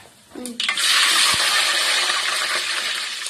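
Mustard seeds and cumin dropped into hot oil, a brief clink followed by a loud, steady crackling sizzle that builds within a second and holds close and bright until the end.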